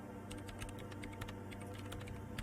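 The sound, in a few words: typing on a computer keyboard in Disco Elysium video game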